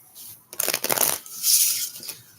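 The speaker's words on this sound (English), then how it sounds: "gonna start shuffling because I'm not even doing a reading. I'm just shuffling." Tarot cards are shuffled close up in a few quick riffling bursts, crisp papery flutters and slaps separated by short pauses.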